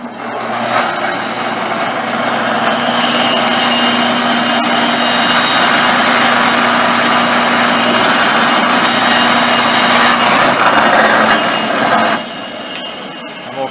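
Bandsaw cutting a wooden handle, a loud steady whine and roar that runs for about eleven seconds before dropping away.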